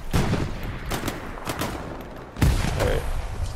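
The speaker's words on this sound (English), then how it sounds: "they got a machine gunner laying down and shooting us" Gunfire from a machine gunner lying prone in a video game: dense, rattling bursts and sharp reports across the whole stretch, with a heavier, louder burst about two-thirds through. No one talks.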